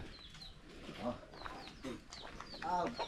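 Chickens cluck and chatter repeatedly nearby in a farmyard in Kalibo, Aklan, Philippines, with a person speaking over the sounds.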